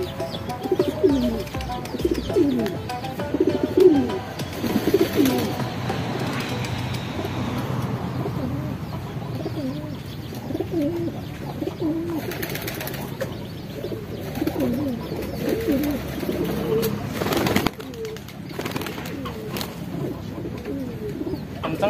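Pigeons coo repeatedly and low at close range, including a newly bought blorok pigeon from a market. Faint background noise and the passing rumble of a vehicle sit beneath the calls.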